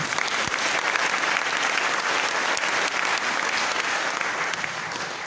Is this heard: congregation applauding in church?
yes